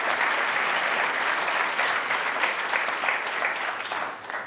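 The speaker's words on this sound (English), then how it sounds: "This is where you clap." Steady applause from an audience at a pitch competition finale, dense and even from start to finish, fading slightly at the very end.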